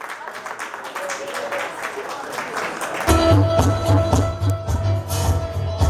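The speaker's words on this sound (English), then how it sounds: "Let's give a nice round of applause" Audience applause at a Cutting Room hip-hop gig, scattered clapping and cheers under a speaking voice, then a beat with bass kicks in halfway and the clapping carries on beneath the music.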